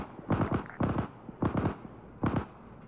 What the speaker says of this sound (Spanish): Te abre los fuegos sobre esa posición.